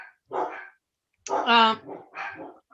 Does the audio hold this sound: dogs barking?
yes